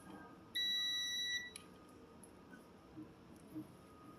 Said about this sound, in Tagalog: Lalagyan natin sa buzzer.